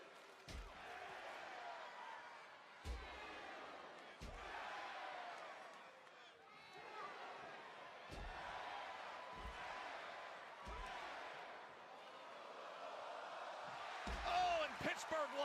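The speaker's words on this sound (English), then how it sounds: "Just listen to this crowd." Wrestling arena crowd in Pittsburgh, a broad steady roar of many voices with loud slams and thuds punctuating it every couple of seconds, swelling toward the end.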